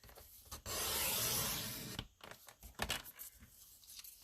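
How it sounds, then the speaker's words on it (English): A paper trimmer blade slides once through a sheet of cardstock, a loud steady rasping cut of about a second and a half, followed by lighter paper handling and scraping rustles at close range. "I'm going to lay it vertically on my trimmer at the 1 inch mark over here. I want to cut 1 inch off."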